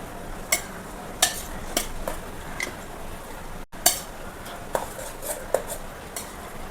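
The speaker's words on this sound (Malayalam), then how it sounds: "നമ്മൾ ഇതൊന്ന് നല്ല ഇളക്കി കൊടുക്കണം" Peanut biryani being stirred in a pot: a metal spoon scraping and clanking against the pot's sides in irregular strokes, close and clear, with a soft background hiss and no talking.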